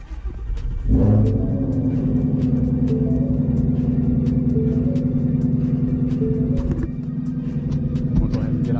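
A Ford Mustang GT350 engine cranks and fires up after an oil balancing line install, a loud catch then a steady deep idle rumble that holds throughout, close by in a garage with faint clicks.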